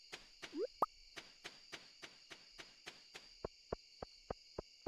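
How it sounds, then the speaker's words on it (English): Insect ambience in the desert of the video game Stardew Valley Expanded: rhythmic, evenly spaced clicking chirps over a steady high buzzing drone, with a few brief plopping tones near the start. "And like cicadas, I guess?"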